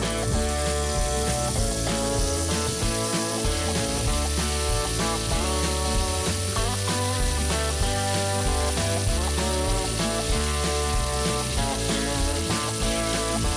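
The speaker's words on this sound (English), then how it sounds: "pick up the plastic cutting board with kimchi and slowly add them into the pan" Kimchi frying in sesame oil in a pan, a steady loud sizzle that fills the whole stretch with no talking, blended with background music.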